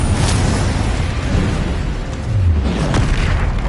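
A Confringo spell explosion in Hogwarts Legacy, a loud, dense, rumbling blast that fills the whole stretch as a continuous roar with a few brief surges.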